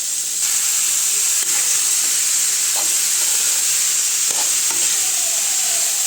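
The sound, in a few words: beetroot and moong dal curry frying in open pan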